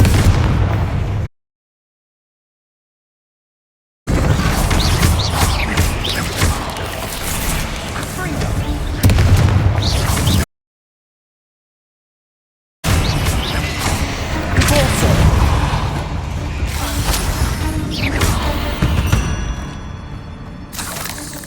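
Magic spell blasts in the Hogwarts Legacy video game, Bombarda and Confringo, burst as heavy booming explosions in loud bursts, with two sudden silent gaps between dense stretches of combat noise.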